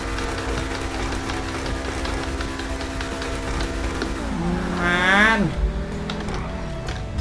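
Pegassi Tempesta supercar in GTA V: a steady engine drone hits a high, rising rev surge that peaks and drops back toward idle, loud and close.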